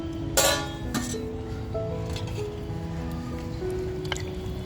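Hot water is poured into chicken masala in a pot on a wood-fired stove, giving soft splashing and dripping with a small clink near the start, fairly quiet and without talk.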